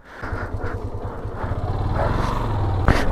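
A motorcycle engine drones and putters while riding, with a worn bearing and a loose, rattling rear end adding clattering vibration, steady and close up.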